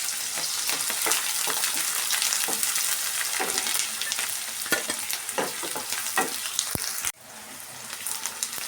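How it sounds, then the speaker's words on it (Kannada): Chopped onions and a few curry leaves fry in hot oil for egg fried rice, giving a loud, steady sizzle with scattered crackles and spoon scrapes close by, then a sudden drop to a quieter sizzle near the end. "ಈರುಳ್ಳಿ ಸೇರಿಸಿ ಚೆನ್ನಾಗಿ ಫ್ರೈ ಮಾಡ್ಕೊಳ್ಳೋಣ"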